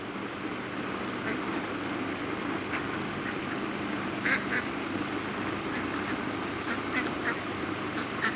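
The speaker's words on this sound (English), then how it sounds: "There's some ducks on the other side of the pond." Faint ducks quack across a pond in the distance, a few scattered calls over a steady outdoor background hiss.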